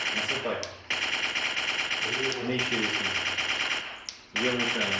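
Loud bursts of rapid machine gun fire in a VR combat simulator, several sustained volleys separated by brief pauses, close and harsh.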